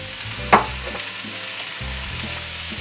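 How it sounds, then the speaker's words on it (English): Vegetable medley frying in olive oil in a pan and being stirred, with a steady close sizzle under one sharp utensil scrape near the start and a few lighter clicks later. "I'm going to get ready to pan spray as I stir the vegetable medley"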